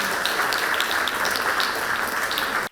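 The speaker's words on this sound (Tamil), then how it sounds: "தயவுசெய்து அதுக்காக எல்லாரும் கைத்தட்டலாம்" Audience applause at an achievers' meet, a dense, even wash of clapping from a crowd that carries at a steady level and then cuts off abruptly.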